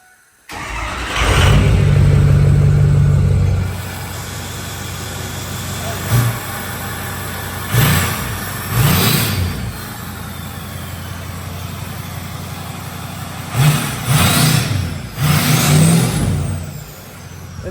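A 6.0 Powerstroke diesel truck engine with a loud aftermarket exhaust starts and idles loudly, with several sharp revs and exhaust bursts rising and falling; voices talk faintly underneath.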